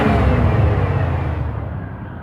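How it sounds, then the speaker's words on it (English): Engine of a Pontiac Grand Prix GTP with a cylinder 4 misfire, heard from under the car as a loud low rumble that fades over a couple of seconds. "When I hit the gas, there's some hesitation, as you can hear."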